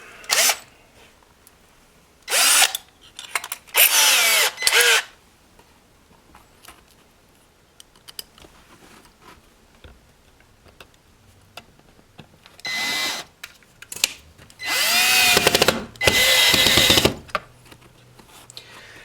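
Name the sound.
power drill drilling holes into wooden cleat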